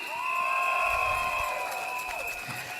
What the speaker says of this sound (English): Once again, give a rousing applause for Alfred